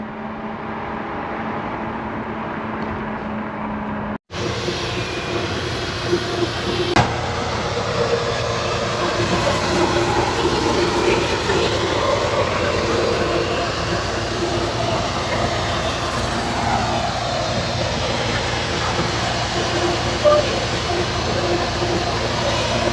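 A GO train engine idles at Weston station on a warm evening, giving a steady, close, low rumbling drone with a constant high whine above it and a sharp click partway through.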